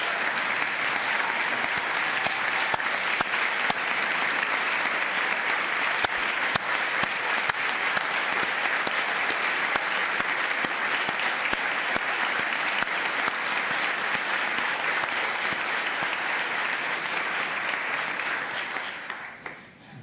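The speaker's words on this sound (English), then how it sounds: "Please give them a round of applause." An audience at Virginia's 2022 State of the Commonwealth Address gives sustained, steady applause that fills a large hall for about twenty seconds before fading away at the end.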